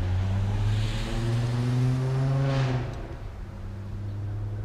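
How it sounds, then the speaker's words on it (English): A car with a loud, droning aftermarket exhaust rumbles past nearby, its engine note swelling and then fading as it moves away. "I'm sure you can hear the shitty ricer exhaust from there."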